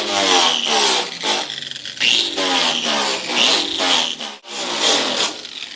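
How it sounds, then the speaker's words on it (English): A grinder strips paint from a 1951 Ford 1-ton step-side truck to prep for welding. It whines loud and close, pulsing as it bites the metal, with its pitch swelling and dipping between passes. "what we need to do is grind the paint up and prep for welding"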